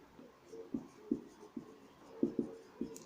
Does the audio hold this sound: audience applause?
no